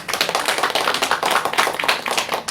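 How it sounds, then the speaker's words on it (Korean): Applause at a church gathering, many hands clapping in a dense, continuous patter that holds steady for a few seconds with no talking. "박수 한번 주시기 바랍니다."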